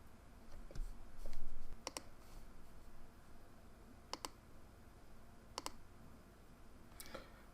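Mouse clicks on a computer while confirming settings in a developer portal, a few sharp isolated clicks spaced apart, close and fairly quiet against a low background hiss.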